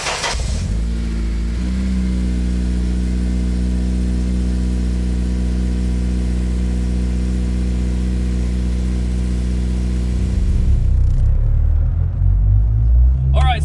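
A Honda Civic Si (FA5) with a Skunk2 Alpha header and a very loud 3-inch exhaust idles with a deep rumble, then revs and pulls away near the end, the engine note rising and growling.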